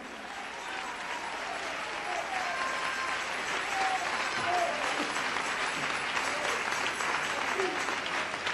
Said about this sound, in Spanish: Dele ese aplauso al Cristo de la gloria